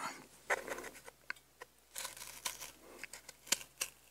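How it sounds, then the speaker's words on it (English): Sturdy Teflon-coated scissors cut through sticker paper for chipboard craft embellishments, making close, crisp, irregular snips and crinkles at a quiet level, with no talking. "And I kind of just cut under the sticker."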